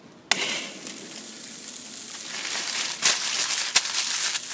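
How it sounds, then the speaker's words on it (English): A burger patty sears in hot bacon grease on a skillet, a steady broadband sizzle crackling close and loud, with a few sharp pops and spits standing out through the frying. "Grab your meat and get it on the grill."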